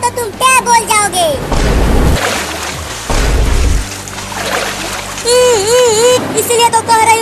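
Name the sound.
splashing in flood water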